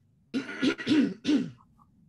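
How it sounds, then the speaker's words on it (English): Someone close by clears their throat in four rough, gravelly bursts, then falls quiet. "I gotta clear my throat."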